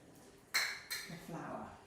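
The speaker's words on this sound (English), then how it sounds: "a spoon to get the rest of this out of the cup measure" A metal spoon scrapes ghee from a measuring cup, giving two sharp clinks followed by a short scraping rub, close and fairly quiet.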